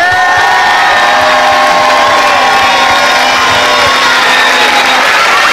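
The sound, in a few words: crowd ovation cheering for Dani Carvajal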